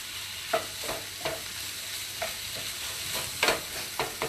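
Vegetables with red and yellow peppers sizzle in a pan as a utensil stirs them, giving a steady frying hiss broken by several sharp scraping strokes, close and clear with no talking.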